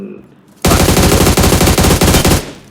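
A loud, sustained burst of rapid automatic gunfire from a PUBG Mobile match starts abruptly after a brief quiet moment and hammers on for nearly two seconds before cutting off.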